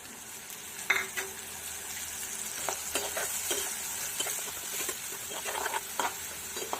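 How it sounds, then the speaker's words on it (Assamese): Spices fry in hot oil with browned onions for a pointed gourd curry, a constant soft sizzle broken by scattered pops and spatula scrapes and stirs against the pan, close and moderately quiet. "মছলাখিনি যে ভালদৰে এনেকৈ তেলত ভাজি ল'ব লাগে"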